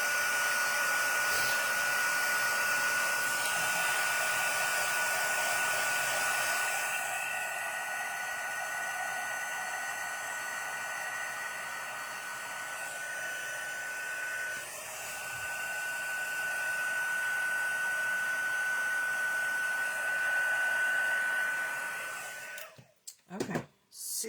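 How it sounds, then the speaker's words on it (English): A heat embossing tool blows hot air in a continuous, steady whoosh for over twenty seconds, close and fairly loud, with a faint whine in it, before it switches off with a few handling clicks at the end. "Let's get out our heat embossing tool."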